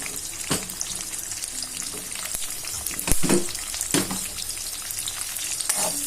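Curry leaves and finely chopped green chillies fry in hot oil with a steady, close sizzle, broken by a few sharper crackling bursts as they hit the oil and are stirred.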